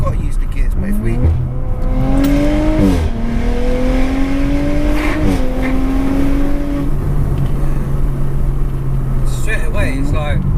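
Tuned Audi RS5 TDI diesel pulling hard at high revs in high gear, a loud engine drone with rising and falling tones as it accelerates, heard from inside the car under ongoing talk.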